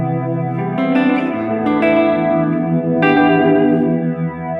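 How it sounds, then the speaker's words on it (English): An electric guitar played through a TC Electronic Infinite sample sustainer pedal lets chords ring into a long held tail that swirls with a through-zero flanger, with a couple of new strums layered in, sounding close and sustained. "So this is what happens when you activate a through zero flanger."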